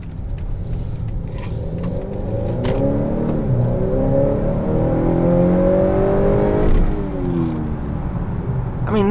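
A 2018 Honda Accord 2.0T Touring accelerates hard from inside the cabin, its engine note climbing steadily in pitch. It dips briefly at a gear change, then rises again over constant road and wind noise.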